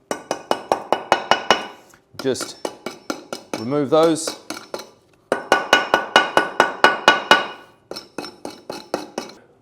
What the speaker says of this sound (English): you can just knock those down with a hammer